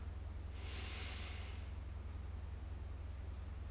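Slow, deep breathing during a seated meditation in an aikido setting: one soft, airy exhale rises above a steady low hum, followed by faint small noises and near quiet.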